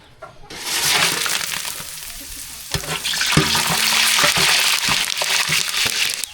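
Whole spices hitting hot oil for vegetable biryani, a loud, dense sizzle and crackle that starts abruptly and runs steadily close up, with occasional sharp pops and stirring clatter.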